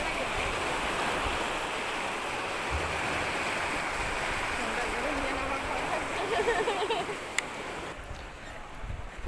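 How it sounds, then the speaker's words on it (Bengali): A river current rushes steadily past, a broad, continuous watery roar near a boat in an open natural setting, with a voice speaking faintly in places. "পানির কি স্রোত।"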